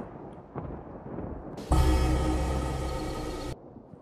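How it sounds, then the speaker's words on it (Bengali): A cartoon storm effect: a quiet rainy background breaks into a sudden loud, dense rumbling crash of thunder and rain that lasts about two seconds, then drops away abruptly. "চারপাশে শুধু ঝড় বৃষ্টির আওয়াজ।"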